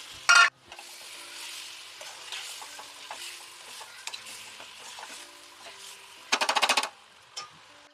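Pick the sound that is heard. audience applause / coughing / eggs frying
eggs frying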